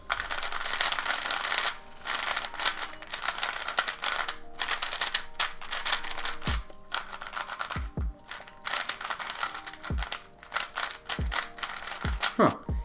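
A frosted-plastic MoYu RS3 M 2020 speed cube is turned in quick bursts, giving close clicky plastic clacks and rattles, with occasional low thumps.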